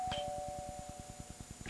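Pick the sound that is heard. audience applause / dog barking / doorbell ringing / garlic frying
doorbell ringing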